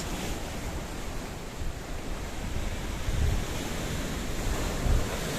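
Sea waves wash and lap continuously against the rocky coastline at Protaras, Cyprus, a broad, steady surf hiss with soft swells and some wind buffeting the microphone.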